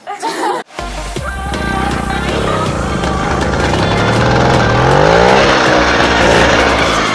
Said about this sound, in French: on va démarrer à la mode mobilette, bien sûr